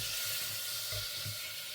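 Butter melting in a pan for a Spanish cannelloni with minced meat gives off a steady, fairly faint sizzling hiss that carries evenly from start to finish, with no talking over it.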